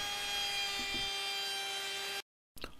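A router mills a wooden pulley with a steady high-pitched tonal whine and grinding, loud and close, cutting off abruptly into silence before a brief clatter.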